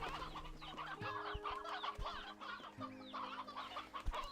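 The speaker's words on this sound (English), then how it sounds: "Holy fucking chickens!" Chickens clucking in the video game Slime Rancher 2, a dense flock of overlapping clucks and squawks close by, steady and busy throughout over a low game hum.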